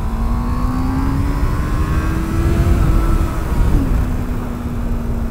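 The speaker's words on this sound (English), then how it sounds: "this bike is quick. It really does have to spin up through the revs" A Honda Hornet CB600F motorcycle engine revs up steadily, its pitch climbing and then dipping briefly before rising again, loud and close with a continuous roar.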